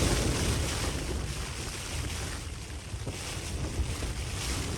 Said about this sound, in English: So now I've been out here and experienced constant 30 to 40 mile an hour winds all night and rain.